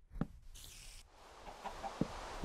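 A Minecraft chicken gives a few short clucks amid quiet game ambience, brief and moderately close, with no talk over it.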